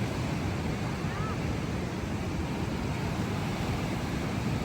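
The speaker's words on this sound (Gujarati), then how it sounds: "કેવું પાણી જાય છે જો." River water in the Spiti valley rushes past in a steady, loud roar that fills the whole stretch, with some wind buffeting the microphone.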